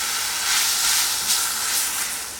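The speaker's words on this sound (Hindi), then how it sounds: "अच्छे से फ्राई करना है इस पर" Garlic paratha fries in butter on a hot pan, a steady bright sizzle and hiss that stays close and even throughout, with no talking.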